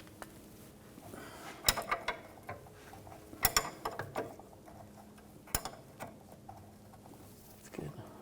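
A wrench loosens a rear sway bar link on a 2006–2010 BMW 550i, giving scattered sharp metallic clicks and ticks with a few louder snaps over a low background, and a voice comes through faintly.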